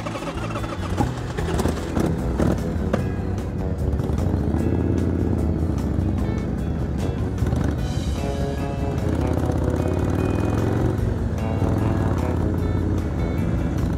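A 1981 Harley-Davidson Shovelhead being ridden, its engine a steady, loud, rumbling drone mixed with rushing wind throughout, heard up close with no pauses.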